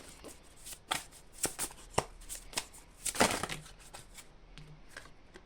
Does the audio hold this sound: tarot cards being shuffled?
yes